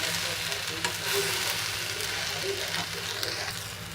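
Okra (bhindi) cooking covered in a pan, a steady close sizzle and frying crackle with occasional soft stirring clatter, constant throughout.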